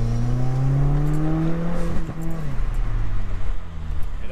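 A Subaru STI S208 with a Cobb intake whooshes as its engine note sweeps and falls while driving through a roundabout, a loud, steady in-car drone with a rushing intake sound.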